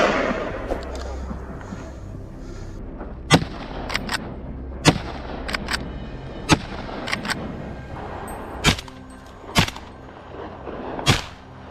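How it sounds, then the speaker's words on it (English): Gunfire during a hunt in snowy Alaska farm country: about a dozen sharp, loud reports at irregular intervals over rustling movement outdoors, with no talking. "With one clean shot, it's all over."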